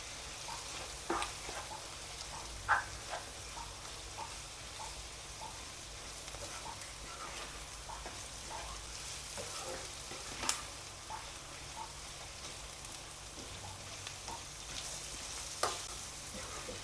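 Onions sauté quietly in a pan with a low, steady sizzle and occasional sharp taps and scrapes of a spoon stirring them, fairly faint and with no talk.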